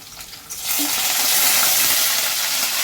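Garlic and dried red chillies sizzling in hot oil during tempering, with mustard seeds and chana dal already in the pan for a spinach stir-fry; a steady broadband frying hiss swells up after a brief quieter start and holds loud throughout.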